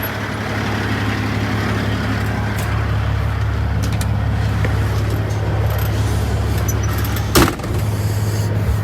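A semi truck engine runs steadily, a loud, constant low diesel drone with a droning hum, and a brief hiss or clunk near the end as the rig moves.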